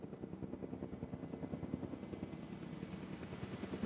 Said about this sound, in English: So getting it into the helicopter and over it comes.